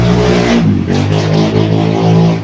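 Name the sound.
loud motorcycles passing outside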